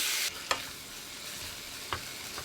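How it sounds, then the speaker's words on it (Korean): Kimchi and pork being stir-fried in a pan for kimchi stew, with a steady sizzle and two sharp scrapes of the utensil against the pan, no voices. "일단 김치와 고기를 볶습니다."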